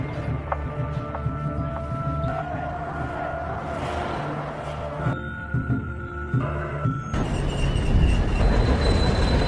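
A train rumbles along the rails, with metallic wheel squeals and tonal whines over a steady low roar that grows louder near the end.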